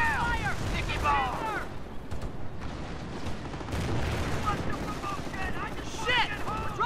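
Battle gunfire in Company of Heroes, the WWII strategy game: dense, continuous shooting and bursts with booming impacts, loud and close, mixed with shouted voice lines over the fighting.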